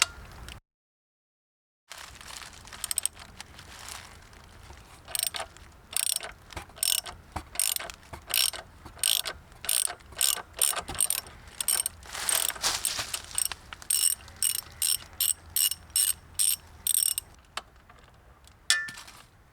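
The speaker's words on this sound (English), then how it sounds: "We're just going to start unscrewing this part." Ratchet wrench loosening the bolts on the bash plate of a Honda CB500X motorcycle: bursts of rapid metallic clicking come in quick, irregular runs, close and fairly loud, with short pauses between strokes and no talking.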